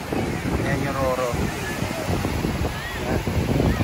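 Waves and wind rush steadily across the whole stretch where the sea meets a river, with people talking over the constant surf noise.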